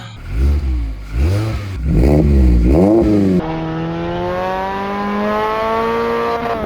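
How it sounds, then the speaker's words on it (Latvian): A car engine revs hard several times with rising and falling exhaust roars, then settles into a loud, steady high-pitched drone. "es teiktu, ka mūsu izpūtējs skan labāk"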